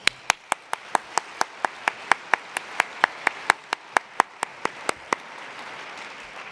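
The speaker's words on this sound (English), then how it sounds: "I just want to give another round of applause for Anant." Applause at a university keynote in an auditorium comes through as sharp, evenly spaced claps, about four per second. They are close and distinct, like one or a few people clapping, then fade into quiet room noise.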